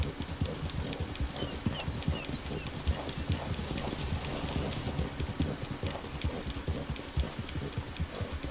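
Horse hooves clip-clop steadily in Red Dead Redemption 2, a quick continuous run of close, crisp strikes repeating for the whole stretch over a low rumbling ambience.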